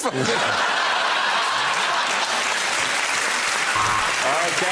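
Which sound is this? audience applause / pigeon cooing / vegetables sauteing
audience applause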